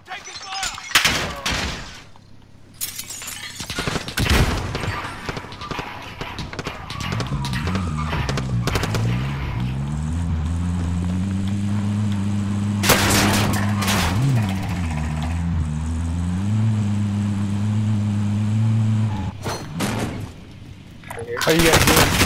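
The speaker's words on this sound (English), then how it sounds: "I'm taking fire." Warzone video game gunfire: bursts of rapid automatic shots and single cracks, loud and close at the start and again mid-clip, over a droning engine-like hum, with players talking at times.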